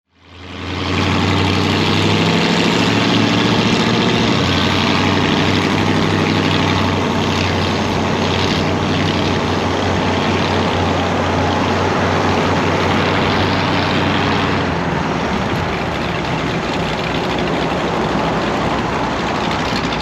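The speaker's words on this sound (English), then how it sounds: "that plane is Tom Cruise's" A steady, loud engine drone runs throughout with a low humming rumble, like a propeller aircraft idling nearby; no talking.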